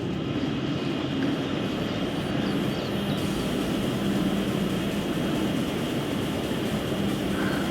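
A DJI Neo drone flies among woodland trees, putting out a steady, unbroken propeller whine and hum that stays even in loudness throughout, with no voices.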